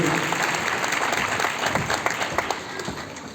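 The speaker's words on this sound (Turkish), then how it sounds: "Alkışlarla mikrofonumuzu alalım" An audience at a municipal singing contest claps steadily for a few seconds, a dense, even wash of applause at moderate distance with no speech over it.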